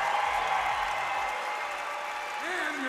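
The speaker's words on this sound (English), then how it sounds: "Give a big round of applause to Kyle Douglas, second place" Arena crowd at a championship archery shoot applauding the second-place finisher, a broad steady roar of clapping beneath a public-address voice speaking.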